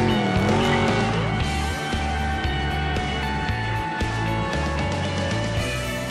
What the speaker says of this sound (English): the car will rocket forward off the line, cleverly sniffing out every ounce of grip available, wet or dry